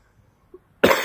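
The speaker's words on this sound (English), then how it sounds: "I've still got a niggly cough still sitting there" A single sharp, loud cough bursts out after near silence, preceded by a couple of faint small noises.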